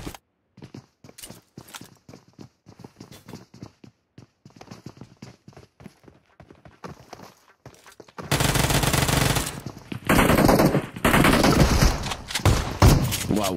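Gunfire in PUBG Mobile during a competitive tournament final: scattered sharp shots and footsteps at first, then loud, dense bursts of rapid automatic fire that dominate the rest.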